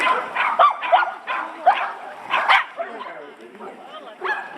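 A dog barks repeatedly at the start of an agility course run: a quick series of close, sharp yips and barks, with some whimpering in between and a voice talking over them.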